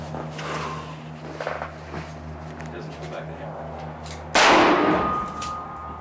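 A heavy .357 revolver fires a 180-grain hard-cast bullet into ballistics gel: one sharp, loud gunshot with a ringing tail, over a low steady outdoor hum with faint shuffling beforehand.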